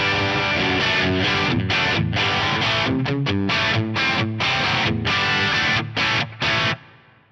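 An electric guitar played through the Fractal FM3's Atomica High amp model with London plate reverb rings out in loud, driven, distorted chords, strummed in rhythmic bursts with short gaps, before the last chord cuts off and a reverb tail fades out.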